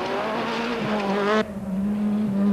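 A newly developed Formula 2-based Class B rally car on a 1995 NGK Rally stage revs hard and close, its engine note dropping sharply midway, then settling into a steady, lower droning pull.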